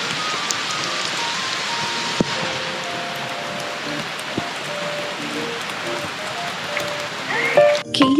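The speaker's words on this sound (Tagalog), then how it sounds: "duper duper lakas ng ulan" Heavy rain pours steadily at a glamping site in Tanay, a loud, dense hiss of drops drumming on a nearby surface, with brief clicks and a few thumps near the end.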